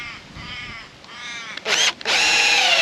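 A power drill drives a screw into a wooden post, whining in two bursts that grow louder and longer, with a brief pause between them.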